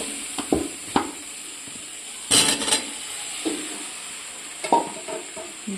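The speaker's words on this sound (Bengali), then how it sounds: "আলুটা দিয়ে আর একটু ভালো করে কষাবো" Potatoes sautéed in a pan of spiced oil with a little water, a low steady sizzle broken by scattered clanks and scrapes of a spoon stirring against the pan.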